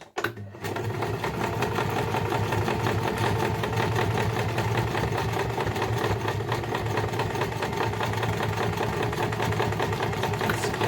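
A sewing machine stitches the seam of a fabric beauty pouch with a few reverse stitches, starting after a brief pause and then running at a steady, rapid, even mechanical whir.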